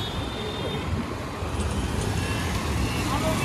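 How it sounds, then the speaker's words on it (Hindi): A Honda Activa 125 scooter races a Pulsar motorcycle through city traffic, a steady roar of engines and road noise all around, with someone talking over the din. "देख लो एक्टिवा 125 चला रहा हूँ और पल्सर देख लो सीसी, रेस लग चुकी है"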